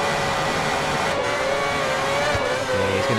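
A Formula 1 race car engine in F1 2010 on PS3 at the Spanish circuit, whining loudly and steadily as it accelerates, pitch climbing with brief shift dips, with no voices over it.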